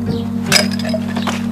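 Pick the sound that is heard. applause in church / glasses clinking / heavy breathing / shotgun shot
glasses clinking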